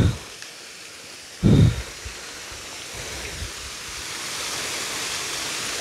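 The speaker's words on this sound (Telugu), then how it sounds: "వాటర్ సౌండ్ ఏదైతే ఉందో మీకేమైనా అనిపిస్తుందో రిలాక్సింగ్" Continuous rushing water flows steadily, a small cascade splashing nearby, with a brief thump early on and no talking.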